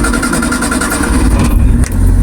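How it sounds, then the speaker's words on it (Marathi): A vehicle engine running at idle after starting, a loud, steady close rumble with a slight dip in level partway through, no voices. "गाडी चालू आहे."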